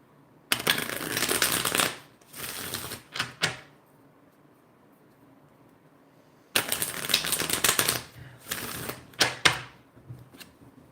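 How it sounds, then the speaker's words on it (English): Two bursts of tarot cards being riffled and shuffled close up, each a few seconds of crisp rapid flutter ending in quick taps, with quiet between. "let me get those a quick wake up shuffle"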